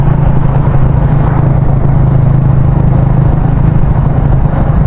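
A Yamaha Sniper 150 motorcycle fitted with a UMA 32mm throttle body runs at low RPM with a rough, uneven idle. The loud, close engine rumble is steady and continuous, with no talking.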